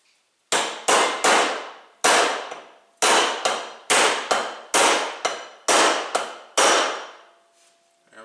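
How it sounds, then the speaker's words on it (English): About a dozen sharp metallic hammer blows drive a bearing into a Badboy ZT Elite mower using a socket or pipe, loud and close with brief ringing decay, struck in uneven rhythm with short pauses between hits. "I'm gonna go get a socket or piece of pipe or something to pound this in with."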